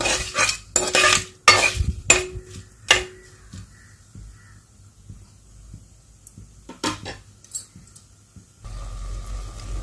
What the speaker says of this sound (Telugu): మిరియాలు లాస్ట్లో షాజీరా అండి ఇవన్నీ వేసుకొని ఇలా కలుపుకుందాము